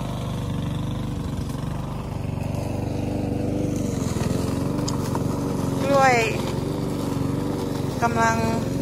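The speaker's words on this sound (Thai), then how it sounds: "มาตัดหญ้าให้ค่ะ" A grass cutter's small engine drones steadily and close by throughout while cutting grass, with a voice talking intermittently over the continuous motor hum.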